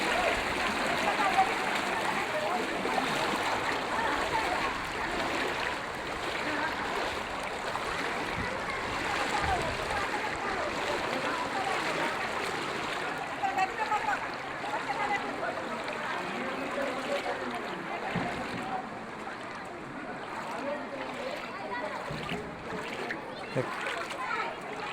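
Floodwater rushing steadily through Reddigudem village in NTR district, a broad continuous wash with splashing, with children's and other voices talking faintly underneath throughout.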